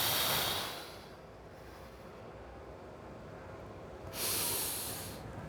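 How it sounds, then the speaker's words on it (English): Deep breathing during an abdominal exercise: a long loud breath at the start and another strong breath near the end, with quieter airy hiss between, close to the microphone, no talking. "So you inhale and you exhale."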